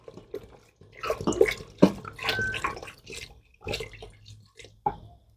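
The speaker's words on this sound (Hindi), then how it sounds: "अब हम इसके अंदर तकरीबन 1 लीटर पानी ऐड करेंगे।" Water is poured into a pressure cooker holding camel meat for nihari, heard as close splashing and dripping in irregular bursts, loud and nearby with short quiet gaps.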